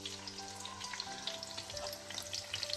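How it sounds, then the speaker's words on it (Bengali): Tuna kebabs fry in hot oil with a continuous crackling sizzle and scattered pops, heard close up and alone. "টুনা কাবাব গুলো ভাজা হচ্ছে।"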